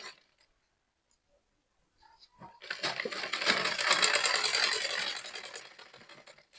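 A sewing machine stitches fabric while a bubu dress with a cupped corset is being made, starting after a short pause with a steady, close mechanical whir and rapid ticking that swells and then eases off.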